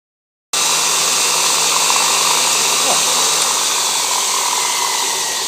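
After a moment of silence, a belt grinder with a 120 grit belt spins up into a loud, continuous whine and hiss that stays steady to the end.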